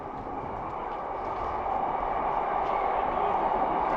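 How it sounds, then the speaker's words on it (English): A steady, broad rumble of a train rolling past at a moderate distance near Delamere Forest, Cheshire, gradually growing a little louder, with no talking. "There's one of those trains on the train line"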